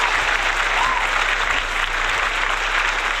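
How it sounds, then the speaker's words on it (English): Crowd claps in a loud, dense round of applause that holds steady for several seconds, with a low electrical hum running beneath it. "Round of applause, man."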